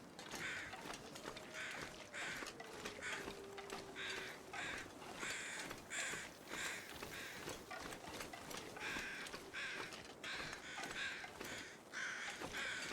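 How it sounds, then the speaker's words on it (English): Crows caw repeatedly in the survival video game The Long Dark, their harsh calls coming in steady bursts over a faint outdoor ambience, with no voices. "Crows, did you drop any feathers?"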